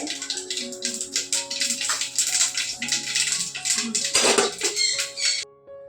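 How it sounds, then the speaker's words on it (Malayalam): Mustard seeds pop and crackle in hot sunflower oil: a busy, continuous patter of close, sharp little bursts that stops abruptly at the end. "കടുക് പൊട്ടി വരട്ടെ."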